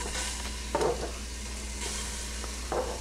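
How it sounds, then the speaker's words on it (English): Meatballs browning in a pan for spaghetti sauce, a continuous close sizzle with two short bursts of louder crackling and stirring, no voices. "now we get those meatballs in there. Get them cooked the same way."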